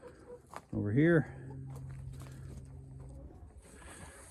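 A short, rising hen call sounds close by in a chicken coop, briefly overlapping a person talking, followed by a steady low hum.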